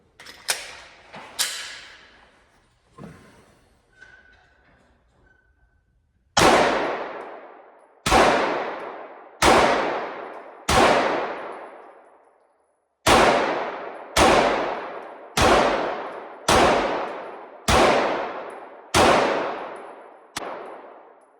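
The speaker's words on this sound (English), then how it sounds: "Just to show you the 20 rounds, how smooth and accurate this Springfield is." A Springfield Echelon pistol fires at a range. There are several loud, sharp shots, a pause with a metallic clink, then a steady series of about ten evenly spaced shots, each with a ringing decay.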